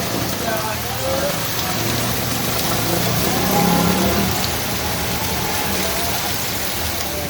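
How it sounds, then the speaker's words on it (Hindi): Heavy rain pours steadily as a loud, even roar of hissing water, constant throughout with no break. "बहुत तेज़ बारिश हो रही है"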